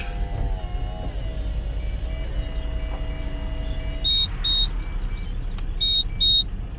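Short electronic warning beeps from a 2007 Mitsubishi Colt CZC convertible sound in pairs over a steady low rumble, a few separate tones repeating near the end.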